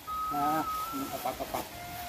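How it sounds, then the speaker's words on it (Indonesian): Chickens being fed leftover food cluck close by, one drawn-out call followed by several short, uneven clucks and rustling, with a faint tonal sound in the background. "Ininya sisa-sisa makannya dikasih ke ayam."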